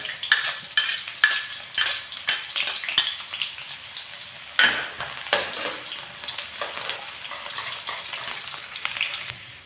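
Sliced shallots crisping in hot oil in a pan, a dense close sizzle broken by rapid clinks and scrapes of a metal utensil stirring, busiest in the first half, with no talk.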